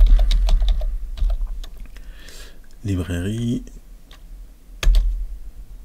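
Rapid typing on a computer keyboard while writing Python code in PyCharm, a close, steady patter of key clicks with a louder tap near the end, and someone speaking briefly over it.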